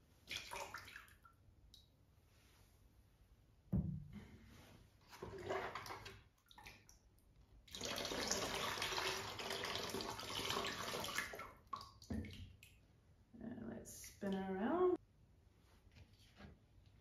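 Ceramic glaze poured into the foot ring of a tall pottery vessel, heard as short bursts of liquid splashing and trickling, one sustained pour of several seconds, close by, between quiet pauses and a voice talking.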